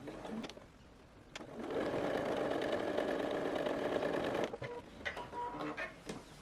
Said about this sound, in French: Et on passe un petit coup de point zigzag.